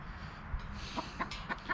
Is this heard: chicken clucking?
yes